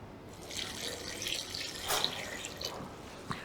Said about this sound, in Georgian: წყალი.